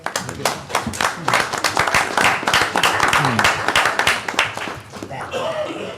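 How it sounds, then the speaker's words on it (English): A room full of people applauds at a town council meeting, dense clapping rising and holding for several seconds, with a few voices and chuckles mixed in before it fades. "Applause to you, Ellie."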